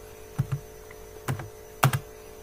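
Computer keyboard typing in three short bursts of two or three clicky keystrokes each, evenly spaced and close, over a steady low electrical hum.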